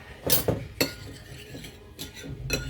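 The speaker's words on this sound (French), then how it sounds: "Je prends un petit peu de lait, un peu de chocolat comme ça, que je mélange." A spoon stirring milk and chocolate in a dish, with a few distinct clinks and scrapes against the dish at close range, no voices.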